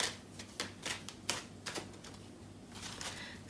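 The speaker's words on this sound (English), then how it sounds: "I'll just begin shuffling and see what comes out for you" Bonefire Tarot cards being shuffled by hand: a run of crisp, irregular riffling bursts and soft slaps, close and fairly quiet, with no talking.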